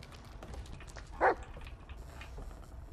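A single short dog bark rings out once in the Blair Witch video game, moderately loud over quiet ambient background.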